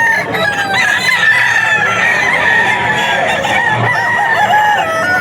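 A Spartan Black gamecock rooster at a Bocaue auction market crows loudly and close, its sustained call running over a busy backdrop of other fowl.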